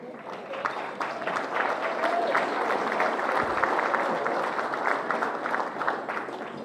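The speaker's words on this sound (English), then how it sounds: "A final round of applause for our 3 trophy winners." Applause from the audience at a junior football presentation night greets three trophy winners: dense, steady clapping throughout with a murmuring crowd and some voices mixed in.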